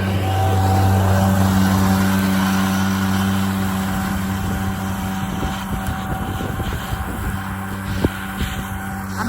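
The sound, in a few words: tractor engine running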